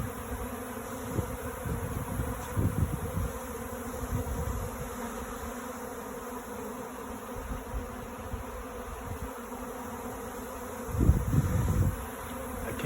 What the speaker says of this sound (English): I'll have a basketball-sized swarm of bees hanging off of that